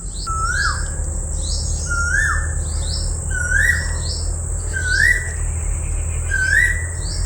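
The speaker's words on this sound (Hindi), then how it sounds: "व्यूअर्स कोयल की आवाज़ सुनो कितनी प्यारी है भाई।" An Asian koel calls in a village garden, five rising whistled notes repeated at an even pace about every second and a half, clear and fairly close over a steady insect buzz and low background hum.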